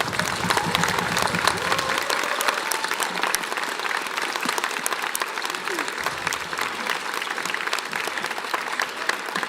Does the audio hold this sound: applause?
yes